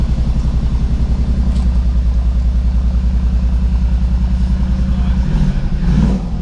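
A car engine runs steadily while warming up after its flat battery is dealt with, a close, pulsing low rumble that continues evenly before easing near the end, with a brief voice and a clatter at the close.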